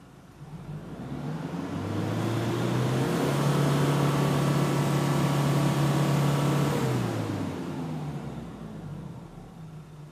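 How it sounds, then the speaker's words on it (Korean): Car engine being started and revved during a smoke emission test at a vehicle inspection, a steady low drone that swells to a loud sustained rev and then drops back, with no talk. "매연 측정기가 교정이 완료가 되면 시동을 겁니다"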